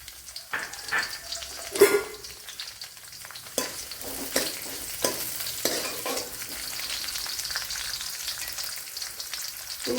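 Chopped ginger, seven or eight garlic cloves and three green chilies fry in a pan for a Kerala-style big bean curry, with a close crackling sizzle broken by repeated stirring clatters and spatula knocks.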